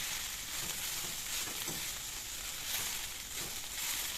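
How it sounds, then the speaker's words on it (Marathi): Farm-grown fenugreek leaves sauté with onions in a pan, making a continuous, even sizzling hiss at moderate level with no talking. "चांगली कांदे संग परतून घेऊया आपण."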